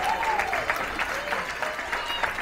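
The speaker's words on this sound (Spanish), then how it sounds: "¡Aplauso al que vive para siempre!" Crowd applause in a jungle survival setting: a short, steady burst of many hands clapping, moderately loud, with a faint voice or whistle-like tone sliding through it.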